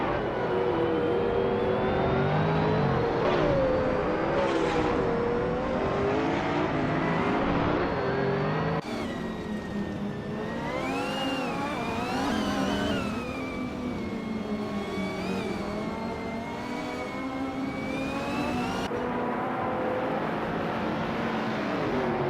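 A 1987 Ferrari F40 races in a driving game. Its high engine whine climbs and drops through gear changes over a constant loud roar, and other race cars scream past now and then.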